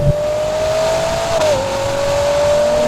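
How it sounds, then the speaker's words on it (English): A Ferrari Purosangue engine holds a high, steady rev with a slight dip midway, loud and close, over a rumbling low end. "The way this car picks up revs absolutely blows my mind."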